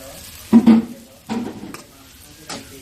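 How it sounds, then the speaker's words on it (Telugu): Bitter gourd fry being stirred in a pan, three separate scraping bursts at a steady pace with a faint sizzle underneath, fairly close and with no one talking. "ఇదైతే ఇలా కలుపుకుందాం."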